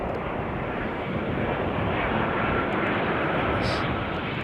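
Jet engines of a Boeing 777 turning on arrival at London Heathrow runway 09L, a continuous broadband roar at moderate distance holding steady throughout.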